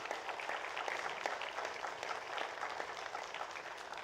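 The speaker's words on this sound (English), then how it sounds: "So a big round of applause for everyone." An audience applauds at the grand finale of a corporate event, with steady, moderately distant clapping that keeps going throughout.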